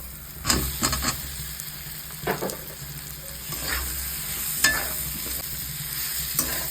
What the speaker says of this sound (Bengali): এবার আমি আলুটা দিয়ে দেবো। আলু দিয়ে এবার ভালো করে আমি কষাবো।